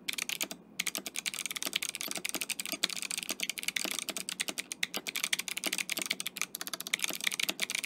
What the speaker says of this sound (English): Clickies, in this case being the Kale Crystal Jades.